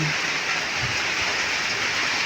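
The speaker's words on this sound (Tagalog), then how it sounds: "Napakalakas ng ulan dito ngayon sa amin" Steady, dense hiss of heavy rain pouring down in Dait, loud and unbroken throughout.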